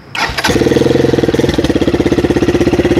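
A Gladiator 200cc GP-2 motorcycle from 2018 cranks and fires, then settles into a steady, loud idle with a close, even, pulsing exhaust beat and no talking.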